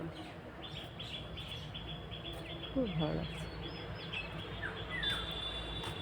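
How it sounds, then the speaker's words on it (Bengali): Birds chirp and tweet outdoors on a foggy winter morning by a village road and banana grove, scattered short calls, fairly faint against a steady background hiss, with a person speaking briefly over them. "পাখি ডাকছে।"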